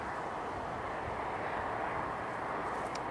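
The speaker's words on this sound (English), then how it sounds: "The little VFR one just landed on runway 25." A small light aircraft rolls along an airport runway after landing, heard as a steady, fairly distant engine drone with broadband rumble and no voices.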